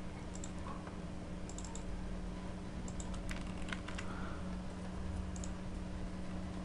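Keystrokes on a computer keyboard while typing a message into a web page, a light scatter of quiet clicks in short bursts over a steady low hum.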